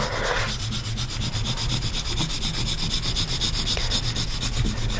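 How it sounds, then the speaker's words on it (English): Paper is hand-rubbed over an inked linocut plate in small, tight circular strokes, a continuous close scratchy rubbing with fast rhythmic pulses and no speech. "This is a technique for printing, just small, tight little balls, rubbing all over."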